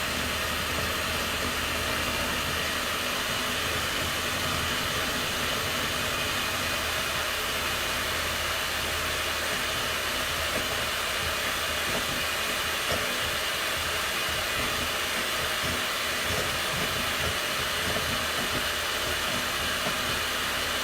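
An electric hand mixer on turbo boost whirs at high speed, a constant loud, hissy motor whine that holds unchanged throughout.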